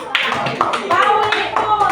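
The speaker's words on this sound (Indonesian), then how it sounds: "beri tepuk tangan untuk kelompok" A group of people in a coaching session for academic supervision clap hands together briefly, a close, loud burst of rapid claps mixed with voices talking over it.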